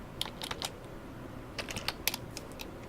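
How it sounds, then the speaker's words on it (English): Keys on a computer keyboard are typed to enter a network command at a Windows command prompt: two quick bursts of crisp, close clicks separated by a short pause, fairly quiet, with no voices. "Over here you want to type IP config space / all"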